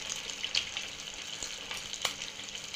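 Chocolate pastry frying in hot oil, a soft, steady sizzle with a few brief pops and crackles, fairly quiet and with no voices.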